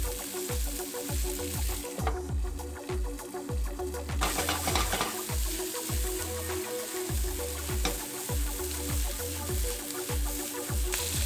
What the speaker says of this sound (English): We're gonna add the garlic and the string beans, and then we're gonna saute it in the fond